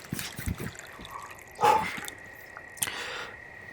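Water poured and dripping in an audio drama scene: a few soft drips and splashes, then a louder liquid gush and a trickle, close and quiet against a hushed background.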